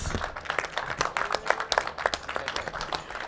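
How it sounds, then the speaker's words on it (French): Applause from the audience at a hip hop talk on aesthetics, greeting a guest named Dan; a dense patter of claps runs steadily for a few seconds. "On peut l'applaudir, Dan de Tikaret."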